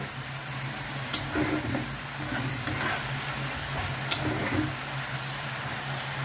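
Fish curry with yogurt is stirred in a frying pan over a steady, close sizzle, with a spoon scraping and two sharp taps against the pan, and no talk.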